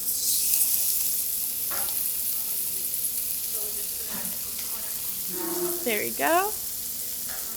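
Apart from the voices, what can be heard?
tofu frying and sizzling in hot oil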